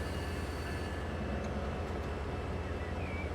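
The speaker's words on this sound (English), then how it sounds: "Sounds like we've got a train on the right pulling in." Train pulling into a station in the video game Transport Fever 2, a steady, dense low rumble of engine and rolling wheels, fairly close and continuous, with a faint high squeal near the end.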